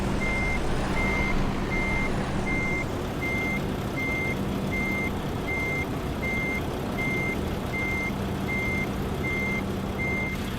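A truck's reversing alarm beeps in American Truck Simulator, a steady run of evenly spaced electronic tones over a loud, constant engine rumble.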